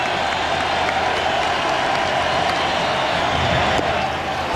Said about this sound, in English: Jeter, who's fanned 3 times tonight, cheering Williams on.